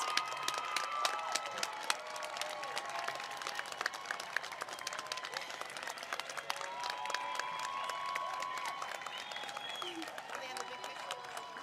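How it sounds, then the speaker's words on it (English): Audience applause at a university commencement ceremony continues steadily across the clip, with scattered cheers and faint voices mixed into the clapping. "give those standing here and watching online a deserved round of applause"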